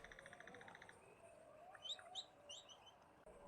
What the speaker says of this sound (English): I hear chirping.